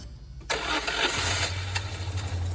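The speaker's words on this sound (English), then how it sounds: "The engine spluttered." A car engine cranks and catches with a rough start, then settles into a low, uneven idle.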